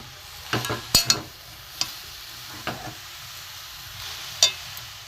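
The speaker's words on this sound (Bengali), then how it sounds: "এখানে গুড় দিয়ে দিয়েছি, নারকেল দিয়েছি, ভালো করে এটা ভেজে নেব।" Grated coconut and jaggery are stirred in a pan, with a few scattered scraping strokes and sharp clinks of a spoon over a faint, steady background hiss, close by.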